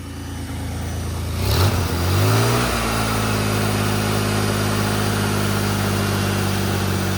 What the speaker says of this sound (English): it's got an exhaust leak down here next to the coupler